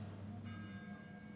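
A faint bell rings from somewhere above in the video game Getting Over It, a soft distant tone emerging over a low steady background hum, brief and quiet.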